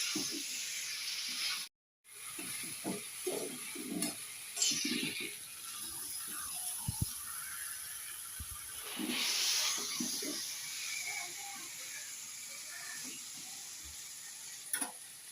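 Potatoes and duck eggs stir-fried for curry give a quiet, constant sizzle and hiss under repeated scraping and tapping of a spatula in the pan, close up, with one brief dropout.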